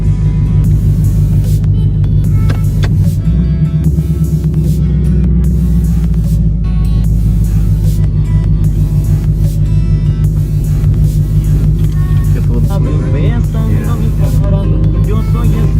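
A 2018 nitrous-equipped 5.0 car on slicks and skinny front tires, its engine a loud, close, steady low rumble with a shift in pitch partway through, heard from inside the cabin.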